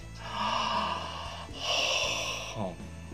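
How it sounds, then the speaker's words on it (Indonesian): A person yawns twice, drawn-out breathy exhales with a rising and falling tone, close and fairly quiet. "Ini nguap."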